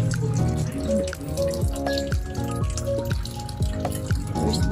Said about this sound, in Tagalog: Ang hina ng tubig. Ang hina ng tubig natin.